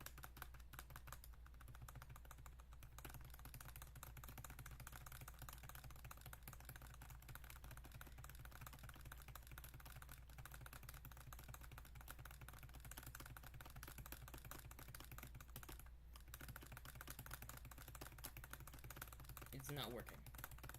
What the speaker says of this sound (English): I'm just gonna keep clicking Control Z until it disappears